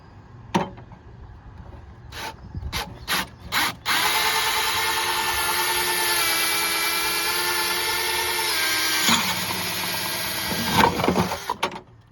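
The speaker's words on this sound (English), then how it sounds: "we're just gonna drill a hole right there in the middle of those 2 holes" A few knocks and clicks, then a power drill whines steadily for several seconds while drilling a hole for a faucet install, before cutting off, followed by more handling noises.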